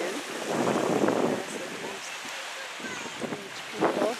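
Pacific Ocean surf rolls onto the beach by Stanley Park in a steady wash, with wind buffeting the microphone and faint voices of beachgoers in the background.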